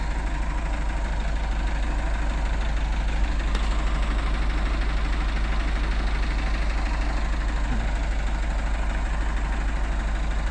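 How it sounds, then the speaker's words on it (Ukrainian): Car engine running steadily and loudly close by as the car drives off toward a new owner, a constant low rumble with no talk. "Ось така от автівка. Їде до нового власника."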